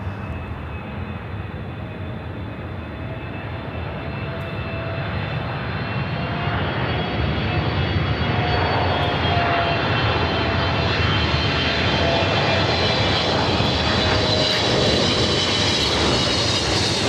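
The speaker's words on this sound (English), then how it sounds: "Air France Flight 22 coming up from Paris" An Air France jet from Paris roars in at LAX, its engine noise swelling from a strong rumble to a louder, steady roar with a faint whine rising over the top, no voices present.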